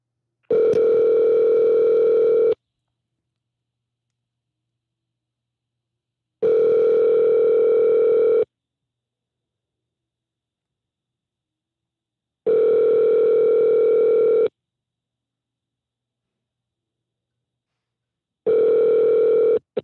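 A phone menu call plays a steady electronic line tone in four evenly spaced bursts of about two seconds each, separated by silence, clear and alone.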